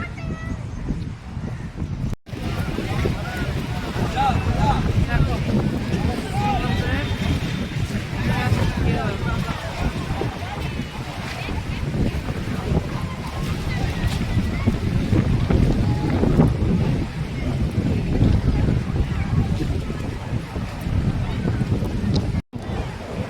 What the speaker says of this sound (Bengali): আমার এবার ঠান্ডা লাগছে, এই হাওয়া